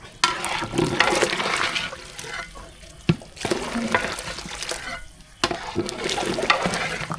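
Vegetable kurma gravy for veg biryani boiling and bubbling in a pot, heard as loud, irregular gurgling and splashing bursts with a few sharp clinks, continuing with brief lulls.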